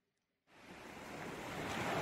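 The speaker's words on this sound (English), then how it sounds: "I could hear the rush of the waves already" After a brief silence, a steady rush of ocean waves swells in suddenly and builds to a broad, continuous hiss of surf, fairly near and with no voices.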